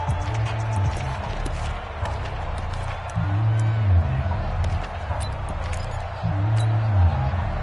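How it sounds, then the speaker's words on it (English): Stadium crowd noise in a console football video game broadcast during a fourth-quarter Colts game, a steady roar of murmuring fans with low rumbling swells that rise and fall every few seconds, loud and continuous. "The crowd getting into it as we come up on a big third down."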